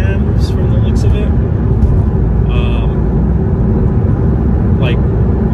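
A Porsche 911 Carrera with a 3.4 liter flat six engine runs as a loud, continuous drone from close by, staying fairly even across the moment.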